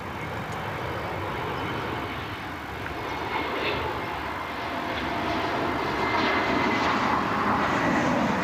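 A Frontier airliner rolls out at Cleveland Hopkins airport with a broad, continuous engine roar that holds steady and grows slightly louder toward the end, with no talking.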